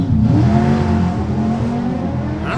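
A drag car launches hard off the line at Santa Pod, its engine roaring loud and close in a rising, strained note that eases slightly as the car pulls away.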